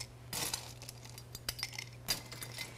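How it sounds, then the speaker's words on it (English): Ice cubes dropping into a glass for a maple bourbon Old Fashioned, a few quiet, bright clinks and rattles in short bursts, close and alone. "And then I'm going to fill with ice, about 1/2 to 3/4 full,"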